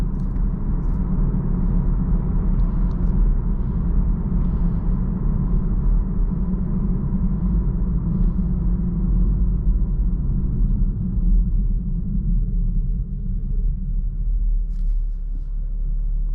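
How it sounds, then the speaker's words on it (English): Steady low rumble of tires rolling on pavement, heard from inside a moving 2019 Chevrolet Camaro 1LT, constant and droning with no talking. "You do hear some tire noise in this car."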